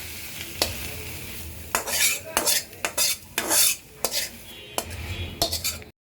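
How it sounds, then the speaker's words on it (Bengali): Cooked spinach being served with a utensil into a small pot, giving a series of close scrapes, clinks and soft wet stirring sounds in irregular bursts, with no talking. "আমার পালং শাকটা হয়ে গেছে। এখন আমি একটা ছোট্ট হাঁড়িতে বেড়ে রাখবো।"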